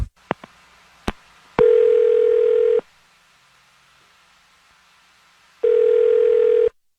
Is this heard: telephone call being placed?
yes